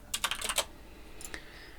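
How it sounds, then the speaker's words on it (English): Quick bursts of keystrokes on an ordinary computer keyboard, a short flurry of clicks followed by a few sparser taps, close and clear with no talking. "It's my keyboard."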